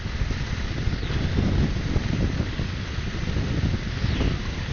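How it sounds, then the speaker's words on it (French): Steady headwind roar buffets the microphone while riding a V-Max Orcal Astor 125cc scooter at speed, a loud, continuous rushing noise with low gusty thumps and no talk. "j'ai toujours le vent de face"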